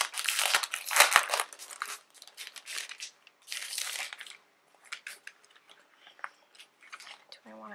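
A sheet of stickers is handled up close while crafting a keepsake calendar box, with bursts of crinkly, papery rustling and peeling, loudest at the start and then sparser, with soft pauses between.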